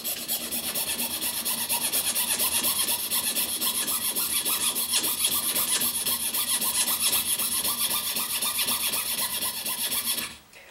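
Steady, continuous rasping of a saw blade cutting pearl for a guitar inlay, dense and close for about ten seconds before stopping abruptly.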